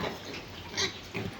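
A pig in a pen at a piggery grunts and snorts close by, a couple of short rough grunts over background farm noise.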